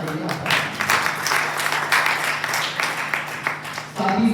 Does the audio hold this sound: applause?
yes